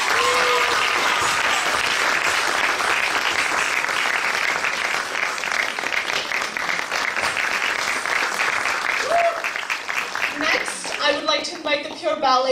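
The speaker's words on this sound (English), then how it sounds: "Let's give them another round of applause" An audience applauds Bharatanatyam dancers on stage at a fusion performance, steady full-room clapping sustained for about ten seconds before thinning out near the end.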